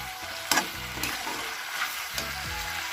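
A pan of pork with mezenga leaves sizzles steadily as it is stirred, with a few sharp scrapes of the spatula against the pan over the constant frying hiss.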